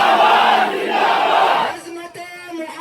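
A large crowd at a street protest roars a slogan in unison, loud and massed, then breaks off as a single voice starts calling out the next line.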